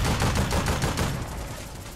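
Rapid gunfire in the online shooter APB Reloaded, a dense burst of repeated shots up front that thins into a steady rumbling wash, loud and close with no talking.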